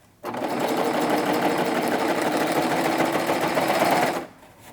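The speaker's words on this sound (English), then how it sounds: "hold on to this thread in the back and begin stitching it all together" A serger sewing machine stitches through thick fabric in one continuous, close whirring run of about four seconds. It starts abruptly and then winds down.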